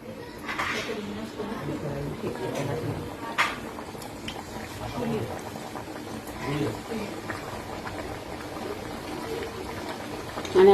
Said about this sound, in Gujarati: હવે આપણે ચાપડીને તળી નાખશું.